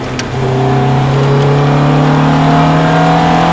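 A Ferrari F430 F1 engine accelerates steadily, its droning note climbing in pitch and holding loud and close throughout, with no voices.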